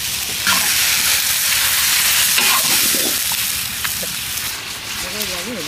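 Goat brisket frying in oil in a pan for biryani gives a loud, steady sizzle and hiss throughout, with occasional stirring scrapes and voices talking nearby.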